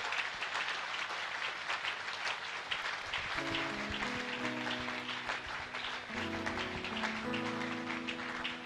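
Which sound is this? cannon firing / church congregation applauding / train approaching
church congregation applauding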